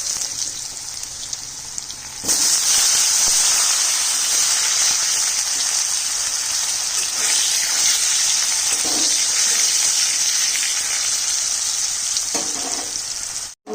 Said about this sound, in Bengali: প্রথমে তেলটা দিয়ে আলুটা ভেজে নিচ্ছি।